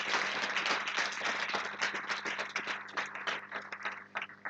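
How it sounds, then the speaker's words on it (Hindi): A church congregation at a Hindi discipleship service claps together for the Lord, dense sustained applause close and loud, gradually thinning toward the end. "अरे प्रभु के लिए तालियां बजाएं,"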